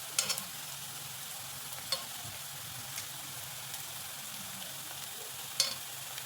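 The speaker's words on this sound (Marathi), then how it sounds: "तुम्ही बघू शकता कांदा पण ते छान भाजतोय" Onion frying in a pan for dal tadka gives a faint, steady sizzle with a few light stirring clicks, heard alone without talk.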